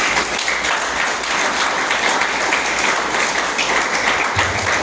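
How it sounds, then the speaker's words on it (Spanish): A church congregation claps in praise to the Lord during a Spanish-language sermon, with thick, continuous applause that stays loud and even throughout. "Denle un aplauso al Señor."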